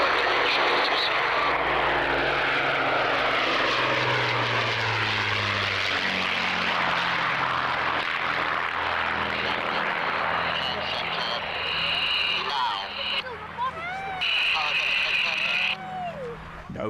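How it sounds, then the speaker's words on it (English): Propeller aircraft engine droning loudly and steadily throughout, with the pitch shifting as the plane moves, and brief whistling tones near the end. "let's get back to the aircraft so you can hear this."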